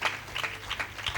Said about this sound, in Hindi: जोरदार तालीम जाए खुदा के जलाल के लिए।